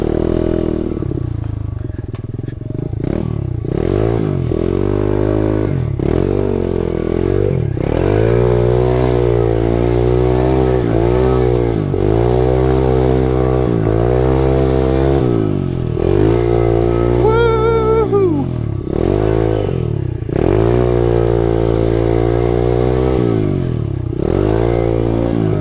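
An SSR125 pit bike engine revs hard through repeated rising and falling throttle sweeps while being ridden, loud and close, with wind buffeting throughout.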